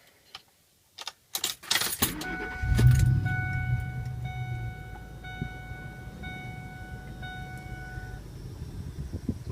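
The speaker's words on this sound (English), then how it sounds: "Go ahead and start it up." Keys jingle, then a 2001 Ford F150 Lariat SuperCrew 4x4 pickup's engine cranks and catches, settling into a steady idle while a soft electronic chime ticks over it.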